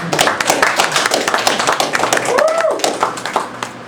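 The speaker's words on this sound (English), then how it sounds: "You should applaud at this point." An open-mic poetry reading audience applauds, a few seconds of dense, steady hand clapping heard close and fairly loud, with a brief tonal whistle-like sound partway through.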